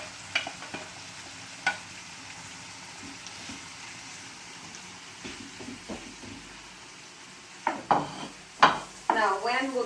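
Tomatoes, zucchini and onion cook together in a pan for rural Italian la bandiera, with a steady soft sizzle under intermittent spoon scrapes and stirring clatter that grow louder and busier toward the end.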